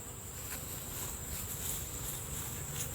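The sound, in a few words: honeybees buzzing during nuc hive inspection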